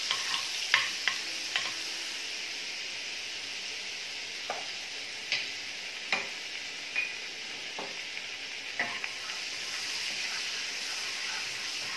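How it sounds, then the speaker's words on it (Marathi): A tablespoon of butter melting in a tablespoon of oil in a pan gives a steady, gentle hiss and sizzle, dotted with faint spoon clicks and scrapes throughout. "बटर आता छान वितळलेलं आहे"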